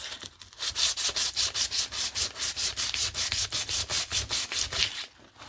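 Sandpaper rubs back and forth over a paper collage in quick, even strokes, about twenty close, scratchy passes in a steady rhythm before stopping.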